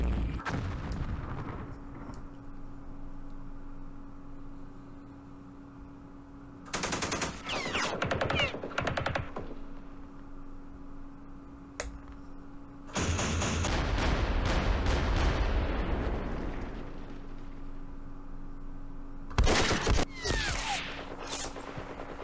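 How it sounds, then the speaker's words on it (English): In the Campaign Series Middle East wargame, a recoilless rifle or anti-tank gun fires in several sharp reports, each with a rolling rumble. Bursts of gunfire break up quieter stretches with a steady low hum under them. "Frickin' recoilless rifle or anti-tank gun or something like that up there."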